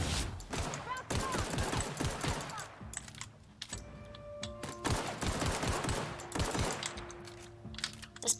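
Pistol shots from The Outer Worlds, a string of sharp, fairly close cracks scattered irregularly through combat noise, with a few tonal game sounds in between.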